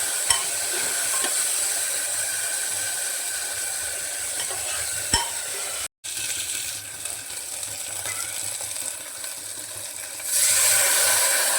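Spice masala fries in a pressure cooker during a mutton curry, a steady close sizzle with scattered stirring clinks and scrapes, a brief dropout midway and a louder hiss near the end, no voices.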